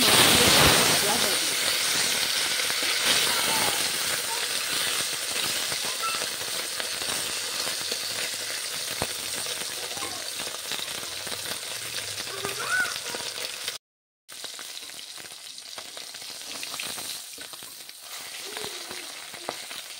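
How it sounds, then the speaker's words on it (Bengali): Fish rubbed with salt and turmeric fries in hot oil, giving a steady, dense sizzle and hiss with steam that runs throughout, broken by one brief silent gap near the end, with faint speech in places. "নুন হলুদ মাখা হয়ে গেছে মাছে, এবারে মাছটা ভাজতে হবে একটু।"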